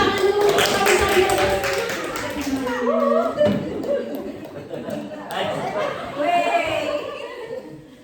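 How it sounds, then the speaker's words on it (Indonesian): Audience applause at a group presentation session, broken clapping mixed with chatter and light laughter from the crowd, sustained across the stretch before a new presenter begins. "Tepuk tangan dulu kalau saya."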